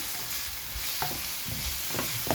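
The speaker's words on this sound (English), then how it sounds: "So we'll saute these for 4 to 5 minutes until it's translucent." Onions with salt sauté in a pan for a Nigerian meat pie filling, giving a steady close frying hiss broken by a few soft spoon scrapes and clunks as they are stirred.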